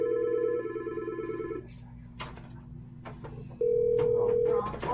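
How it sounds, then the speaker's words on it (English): An office desk phone on a new internal phone system, heard after extension 101 is dialed: steady call tones and a short beep, with brief clicks and handling noises between them and no speech. "I'm going to dial extension 101 from this phone."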